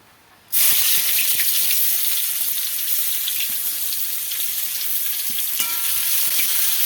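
Chopped onion hits hot oil in a pan with a sudden loud sizzle, then keeps up a steady, dense frying hiss, close and uninterrupted, with small crackles and no voices.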